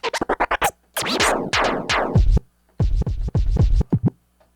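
A quick run of record scratches, short rapid back-and-forth scrubs followed by longer sweeping scratch strokes with brief gaps between bursts.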